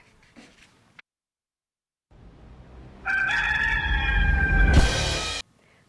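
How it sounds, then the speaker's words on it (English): A rooster crows once, loud and close, a long drawn-out call after a moment of near silence and a low rumble. "More on the chicken that helps the crowd get crowing"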